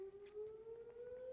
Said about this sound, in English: There's the daily siren.